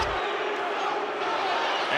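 A basketball crowd at Neville Arena roars in a dense, steady wash of noise throughout a brief moment of an Auburn versus Texas college game.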